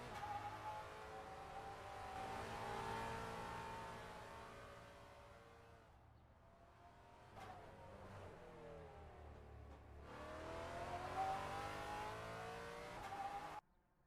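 Police-liveried Ford Mustang V8 race car on a qualifying lap in the SRAC V8 Masters, a steady loud engine drone with shifting revs, briefly easing off mid-lap before building again.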